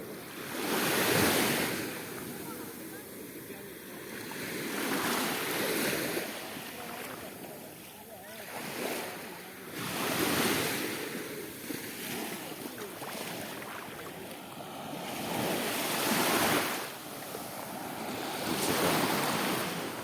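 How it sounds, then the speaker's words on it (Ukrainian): Sea waves roll in and wash onto the shore in repeated surges every few seconds, with wind noise buffeting the microphone throughout. "Ви чуєте шум води?"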